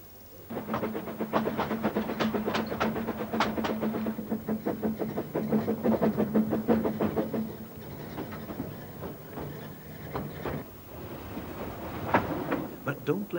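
A steam locomotive runs along a railway line with rapid, rhythmic chuffing and clattering that fades mid-way and picks up again, heard at moderate distance with a steady hum underneath.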